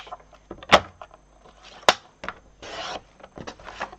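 Designer series paper is cut in half for a handmade card, giving a few short scraping, rasping slices with two sharp clicks of the cutter, close and brief.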